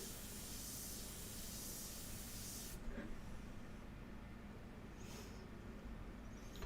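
An airbrush hisses in a steady spray for about three seconds, then the air compressor runs on as a constant low hum with a few short bursts of spray.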